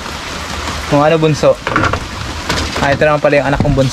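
Steady rain falling outdoors, a continuous hiss running underneath people talking.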